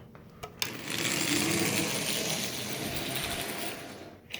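A pre-war Marx toy train motor, restored with straightened side plates and a new axle and wheel, runs steadily with a continuous close whirring, gear-ratcheting buzz for several seconds, starting and stopping with small clicks.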